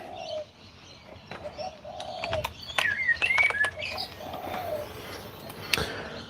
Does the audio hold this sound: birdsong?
yes